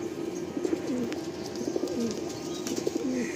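Andhra Lalsira pigeons coo in a loft, repeated low gliding calls in short phrases, close and moderately loud over a soft background hiss.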